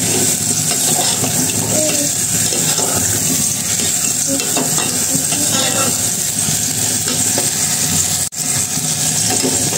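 Khichuri being stirred and mixed in a pot, a steady close wet scraping and bubbling with sizzling and watery sounds running throughout, fairly loud and continuous.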